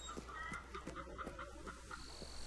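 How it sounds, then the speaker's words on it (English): Chickens clucking in the video game Fable 3, a run of soft rhythmic clucks repeating about every quarter second, close and clear with no talk over them. "Did you hear chickens? I heard chickens."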